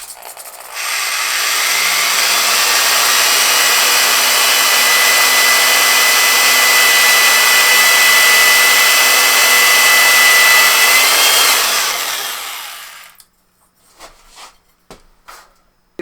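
A power drill whines loudly and steadily for about twelve seconds while drilling aluminum, then winds down, followed by a few sharp metallic knocks.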